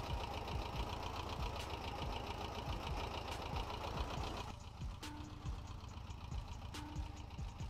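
A small orchard tractor engine idles in Farming Simulator 22, a steady mid-pitched chugging hum that drops a little in level partway through, with a couple of faint clicks.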